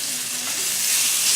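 Butter hitting a hot frying mixture in a pan, a bright, close hiss and crackle of sizzling that swells slightly over a second and a half, with no voices.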